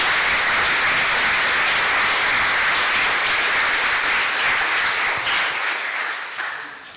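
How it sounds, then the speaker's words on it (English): A lecture audience at a talk on statistical versus deep learning methods for time series bursts into loud, sustained applause that fills the room steadily before tapering off at the end. "So please applause again to Petr."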